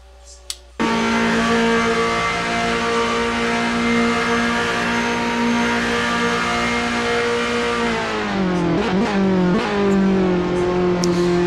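A race car in Assetto Corsa runs flat out through Eau Rouge at Spa, heard onboard as a loud, steady, high-revving engine drone, then a few quick shifts in engine pitch near the end.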